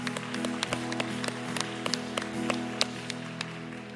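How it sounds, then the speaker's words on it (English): A church congregation at a Sunday service claps together, giving a steady patter of many hands with sharper individual claps over a sustained organ-like tone. "Let's give God a big clap offering"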